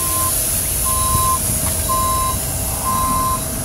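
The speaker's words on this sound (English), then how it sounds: "This bus is an El Dorado." An El Dorado bus backs up with its reversing alarm giving four evenly spaced steady beeps over a loud continuous engine rumble, close by.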